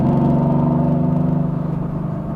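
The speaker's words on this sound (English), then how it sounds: "You can hear the exhaust mode switch." A 2017 Mercedes-AMG GT S Coupe exhaust, Renntech-tuned to 716 HP, burbles loudly with a deep, throbbing pulse, a steady rumbling drone that fades slightly toward the end.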